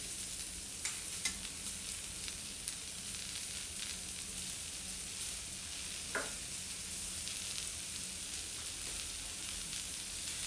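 Onion roasting in a pan over a high gas flame for an onion-coconut paste produces a steady, fairly faint hissing sizzle with a few scattered crackles and pops, and no talking.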